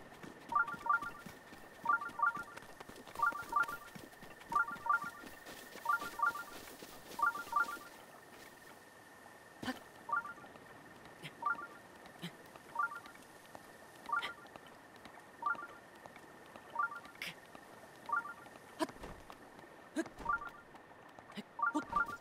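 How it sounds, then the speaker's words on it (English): Shrine in Breath of the Wild giving off a repeating electronic chime, a quick cluster of bright beeping tones looping steadily over a steady high tone, faint and continuous with no talk. "we'll be hitting that shrine that is making all the noise"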